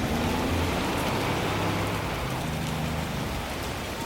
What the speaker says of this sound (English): Then come the torrential autumn rains.